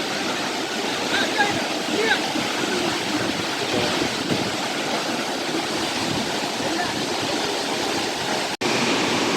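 Mankombu waterfall near Salem, with water dropping from a height, makes a steady, broad, loud rushing roar that continues without a break for the whole stretch, and someone talks over the top of it.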